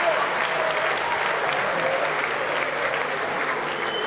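Audience applause at a stand-up comedy show in Abuja, a dense, steady wash of clapping from a large crowd that holds evenly loud for the whole stretch with no voice rising above it.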